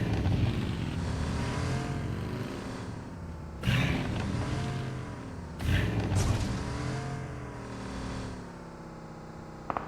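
A car is driven in a video game, its engine note rising and falling through several revs, with two sharp bursts of louder engine noise partway through, moderately quiet overall.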